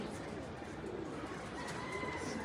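Pigeons cooing softly as a pair settles in to land, a steady low murmur of coos spread across the whole stretch with no clear voices.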